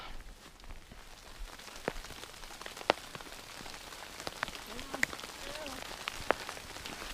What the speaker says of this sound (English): It just started to hail lightly.